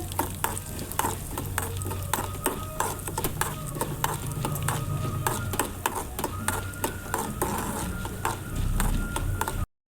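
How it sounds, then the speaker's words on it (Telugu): Urad dal, chana dal, cumin and coriander seeds dry roasting in a kadai, with steady scraping and stirring clicks and a soft rattle of seeds against the metal over a low hum, continuous and close throughout. "అదే కడాయిలో కాస్త మినప్పప్పు శనగపప్పు జీలకర్ర ధనియాలు తీసుకొని దూరగా వేయించి పెట్టుకోవాలి"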